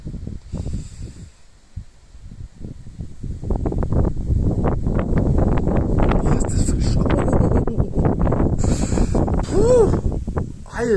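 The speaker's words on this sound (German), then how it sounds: "Es fängt an zu winden." Loud gusty wind under threatening storm clouds after prolonged rain buffets the microphone with a deep, rushing roar that builds and stays strong, while faint voices come through near the end.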